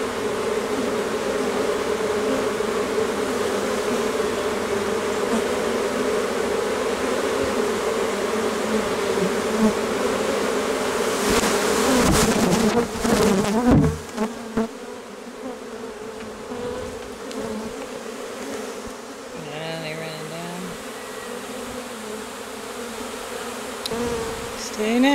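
Honeybees from a shipyard colony drone steadily as they stream into their hive, a dense close buzz lasting throughout, with a brief burst of rustling handling noise midway before the hum settles slightly quieter.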